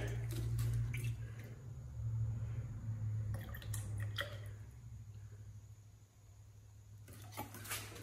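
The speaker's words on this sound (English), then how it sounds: "I'm just gonna pour this in until I get to the first line" Light gray epoxy floor coating with flake is poured onto a bakery floor, giving soft, faint squishing and dripping of thick liquid with a quiet background hum.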